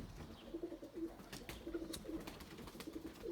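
White tumbler pigeons coo in soft, repeated low bursts close by, with a few sharp clicks and rustles breaking in between.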